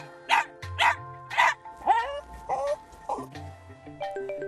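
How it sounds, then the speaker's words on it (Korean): A hoarse pet dog barks repeatedly in an uneven series of close, sharp barks that trail into higher, whining yelps. "왜 저렇게 짖는 건지."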